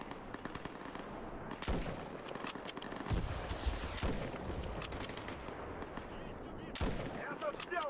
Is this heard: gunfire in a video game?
yes